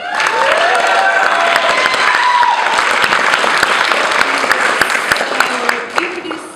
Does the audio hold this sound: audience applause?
yes